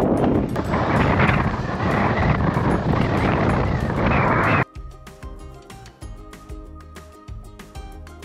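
Strong gusts on a foggy Kai Kung Leng mountain ridge in Hong Kong roar loudly against the microphone for about four and a half seconds, then cut off abruptly to a much quieter background.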